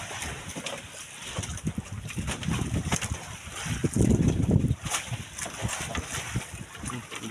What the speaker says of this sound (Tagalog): Lakas na yung hangin, oh.